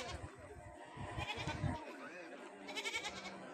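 Goats bleat at a busy goat market in Kerala amid crowd murmur and nearby voices, a few short bleats rising over the low chatter.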